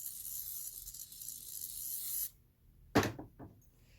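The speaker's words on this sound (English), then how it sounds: "Give that a little shot of spray" A spray can gives a short shot onto fabric while a Kimberbell Main Street Fire Station quilt piece is being made. A steady soft hiss gives way to quiet, then one sharp close burst and two fainter puffs.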